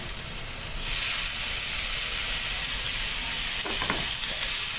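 Lean pork frying in a wok and being stirred, a loud, steady sizzle with hiss and a few scraping stirs near the end, close up.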